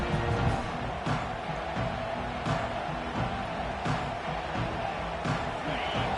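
A roaring stadium crowd in a college football video game forms a loud, constant wall of noise with periodic thumps and surges, while a play-by-play commentator is heard over it.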